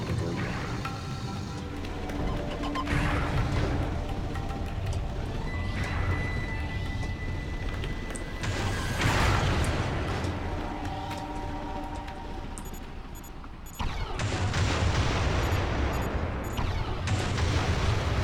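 Mines exploding in the video game Beyond Good and Evil, with repeated booming blasts and rumbling bursts layered over dense game noise and music throughout.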